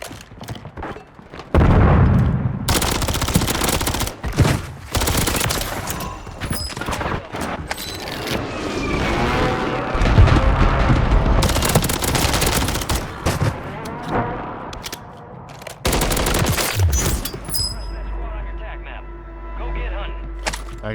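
Bursts of gunfire in Warzone 3 with an MTZ Interceptor rifle and other weapons, loud overlapping volleys and booms coming in repeated waves, with a voice talking in between.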